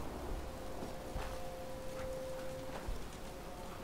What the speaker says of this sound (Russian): А, вот и дождь пошел, смотрите.